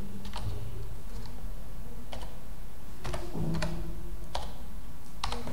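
Computer keyboard typing sounds as scattered bursts of key clicks, several quick taps spaced unevenly, fairly close under a steady low background hum with no talking.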